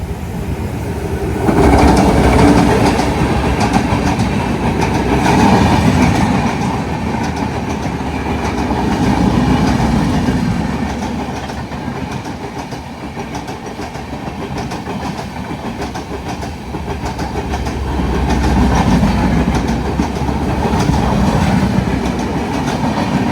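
The Vasco da Gama–Patna express train roars past in heavy rain for a long stretch, its wheels clattering rhythmically on the rails, swelling and easing under a steady hiss.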